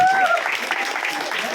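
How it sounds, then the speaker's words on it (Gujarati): Applause from an audience at a costume contest held by a youth club in Nadiad, a continuous dense patter of clapping throughout, with some crowd voices mixed in. "તાળીઓ."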